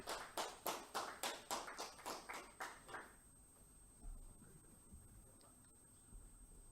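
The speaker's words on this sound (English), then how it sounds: "please do welcome him with a huge round of applause" Clapping at a product launch: a run of about a dozen evenly spaced, sharp claps in a steady rhythm, fading over three seconds and leaving a quiet room with a faint steady tone.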